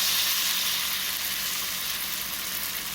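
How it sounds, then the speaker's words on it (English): Saltfish and corn fritter batter sizzles steadily in hot oil, a bright, continuous crackling hiss heard up close with no talking. "the key to dropping it is to ensure that the batter starts frying just a tad bit on one side before doing it"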